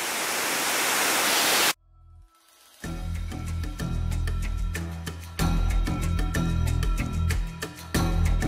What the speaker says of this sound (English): The most magical waterfall I've experienced in my life.